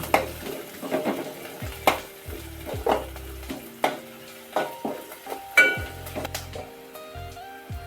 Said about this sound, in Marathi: थोडासा कांदा टाकूया. जरा परतवून घेऊया.